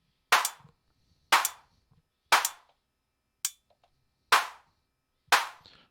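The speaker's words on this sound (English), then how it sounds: "I should be able to get a clap." Six sharp synthesized handclap hits from a Weston Precision Audio AD110 analog drum synthesizer, spaced about a second apart, the fourth one shorter and clipped, each with a short decaying tail and nothing else around them.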